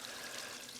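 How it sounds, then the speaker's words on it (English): Water from a small pump-fed DIY backyard waterfall splashes steadily onto a flat rock, a continuous close hiss of trickling, pouring water with no break. "What I do like is that left-hand side, the way it splashes on that flat rock."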